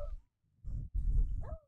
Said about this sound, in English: Well, I can hear like that dog barking behind us.